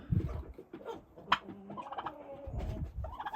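A Bourbon Red turkey gobbling and making rough throaty calls nearby, with scattered clucks and farmyard noise around it.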